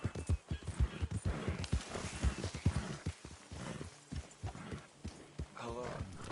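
Horse hooves clip-clop at a walking pace through an outdoor scene in Red Dead Redemption 2, steady and fairly close, with characters talking over them throughout.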